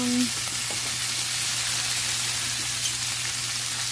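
String beans tumble into pork frying in a pan for adobong sitaw, a steady loud sizzle with a brief stirring clatter as they land, no talk.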